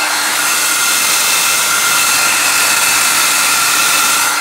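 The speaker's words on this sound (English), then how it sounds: "we're gonna take the hair dryer" A hair dryer set on hot blows steadily and loudly at close range, drying a wet vintage speaker grill, a continuous even rushing whine with no talk.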